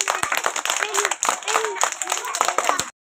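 Classroom of children clapping hands at a Teachers' Day gathering: steady, closely packed claps for about three seconds, mixed with chatter, ending abruptly.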